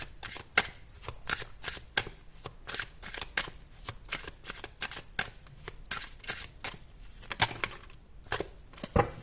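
Tarot cards being shuffled by hand in a steady run of crisp riffling flutters and soft slaps, close and fairly quiet, continuing for several seconds with no talking.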